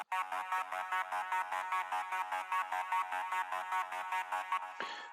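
A bright synthesizer arpeggio plays a fast, repeating note pattern in an even, steady rhythm, loud and alone, cutting off abruptly near the end.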